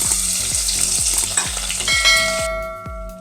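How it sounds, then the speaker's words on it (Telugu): Onion paste frying in a pan after mustard and cumin seeds, a close continuous sizzle with a rhythmic series of low thumps from regular stirring and a brief ringing tone near the end. "ఇది కొద్దిగా బాగా వేగాలి, ఎందుకంటే ఆనియన్ పచ్చివాసన పోవాలి కదా, అందుకని లైట్గా గోల్డెన్ కలర్ వచ్చే వరకు దీన్ని వేయించుదాం"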